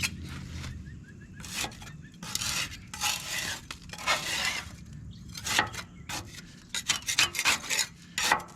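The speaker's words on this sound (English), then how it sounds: "Now the deck needs scraping." A clogged lawn mower deck is scraped with a tool in repeated bursts of harsh rasping strokes, some short and some sustained, close and fairly loud against a low background hum, with no talking.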